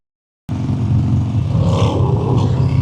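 A car, a Tesla, passes on an Arizona road, heard from a moving motorcycle as a sudden, sustained whoosh of road and wind noise that swells and holds loud through the end.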